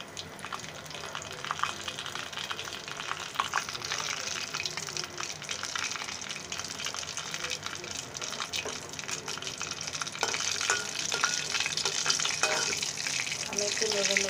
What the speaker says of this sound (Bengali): কড়াই তেলটা গরম হয়ে গেছে, এতে আমি তেজপাতা ও পাঁচফোড়নের ফোড়নটা দিয়ে নিচ্ছি নিরামিষের জন্য